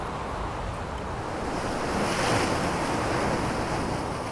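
Ocean waves at a beach in Indonesia roll and wash steadily ashore, a broad continuous surf roar that swells slightly midway, with wind buffeting the microphone and no voices.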